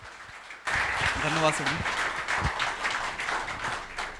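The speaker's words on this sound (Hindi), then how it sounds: "जोरदार तालियों के साथ स्वागत करेंगे सत्यम सर का" An audience at a felicitation ceremony claps to welcome a teacher, Satyam Sir, with steady, loud applause that starts suddenly and keeps going. Someone speaks briefly over the clapping near the start.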